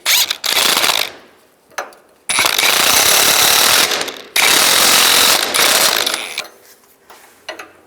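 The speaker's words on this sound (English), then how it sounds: "I can use a 24mm wrench and 18mm socket" A wrench and socket snug a sway bar link nut on a 2005–15 Nissan Xterra, making loud, close ratcheting runs in several long bursts with brief pauses, sharp mechanical clicking throughout and no talking.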